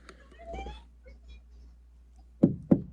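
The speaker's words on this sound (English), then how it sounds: "He's literally knocking on my truck." Two sharp, loud knocks on a truck at night, coming after quiet with murmured voices and soft shuffling.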